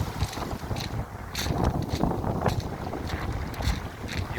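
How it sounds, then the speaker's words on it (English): Wind gusting across a UK shore fishing spot, buffeting the microphone with rumbling, uneven bursts and a hiss of water in the background, with no talking. "It's a bit windy today"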